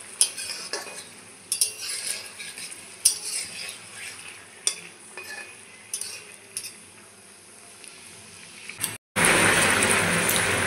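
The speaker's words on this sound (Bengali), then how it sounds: "এখন এইভাবে নাড়াচাড়া করতে থাকবো।" Raw papaya pieces are stirred in bubbling sugar syrup: a spoon scrapes and clinks against the pot in uneven bursts over a soft simmer, then a short gap and a louder, steady hiss.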